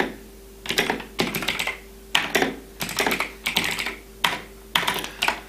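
Computer keyboard clatters under steady typing in irregular bursts of rapid keystrokes with brief pauses, close and clear, with no voices.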